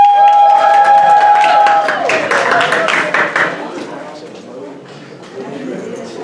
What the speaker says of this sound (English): One more round of applause for Miss Melissa